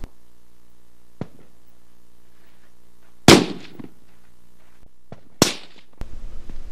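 Two loud, sharp unsuppressed rifle shots, each a sudden crack with a brief ringing decay, spaced about two seconds apart, followed by a short burst of rustling handling noise.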